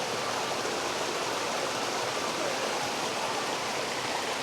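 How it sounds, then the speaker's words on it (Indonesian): Tidal flood seawater at Muara Angke pours strongly onto land, a dense, steady rushing roar of fast water filling the whole clip at constant loudness, close and unbroken. "Airnya kencang banget."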